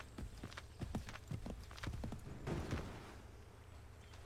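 A horse gallops in the video game Assassin's Creed 3, rapid rhythmic hoofbeats thudding in quick succession, fairly faint with a low background hum.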